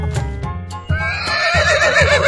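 A horse neighs loudly and close, a long wavering whinny that rises and then falls, with faint clip-clop beneath it.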